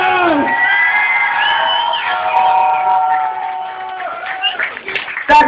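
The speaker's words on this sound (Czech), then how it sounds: "A povorci, pořádný aplaus." Audience at a dance competition cheering, whooping and shouting loudly throughout, a dense crowd roar with high children's voices, ending in a sharp burst of noise.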